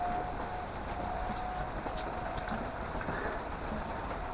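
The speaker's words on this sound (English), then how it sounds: "Absolutely chucking it down." Heavy rain pours down outside, heard from a garage as a dense, steady hiss with scattered drips and taps, continuous and even throughout.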